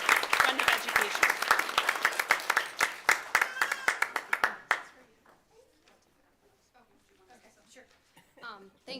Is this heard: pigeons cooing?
no